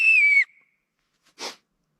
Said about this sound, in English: It's a help me whistle.